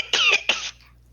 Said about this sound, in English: I know that cough anywhere